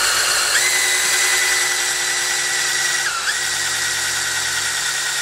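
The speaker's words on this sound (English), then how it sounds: "Come on over here and run the drill." A power drill whines steadily at close range, priming a 283 engine's oil pump, its pitch dipping briefly twice as it bogs under load, with no talking.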